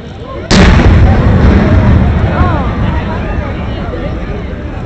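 Fireworks going off during a Fourth of July mishap in Tulsa, Oklahoma, with a fire burning among them: one sudden loud close blast, then a dense, sustained rumble with crackling bursts that slowly fades.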